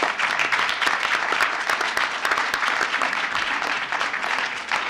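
Steady applause fills a village board meeting room, many hands clapping continuously at an even level for several seconds, with no talk standing out.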